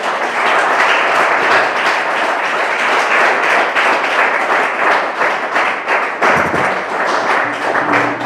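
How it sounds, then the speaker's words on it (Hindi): A church congregation claps hands together in thanks during a Sunday service, sustained, loud, rhythmic clapping that fills the room, with a brief dip before resuming. "आइए हम परमेश्वर को धन्यवाद देंगे ताली बजाते हुए"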